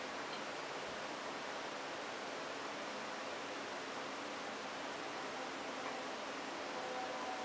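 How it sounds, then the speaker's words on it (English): A pressure washer sprays outside an apartment complex, heard as a faint, steady, continuous hiss of rushing water-like noise with no breaks. "We live in an apartment complex and it's getting pressure washed right now"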